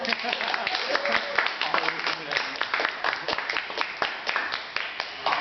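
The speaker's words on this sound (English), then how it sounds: "So I would like you all to give me a big hand of applause." Scattered audience clapping at a Toastmasters club meeting in Bali, a steady patter of individual claps running throughout with voices mixed in.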